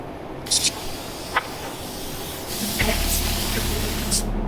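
A continuous hiss of a paint spray gun, growing louder and rougher partway through, with a few short bursts and clicks at the start.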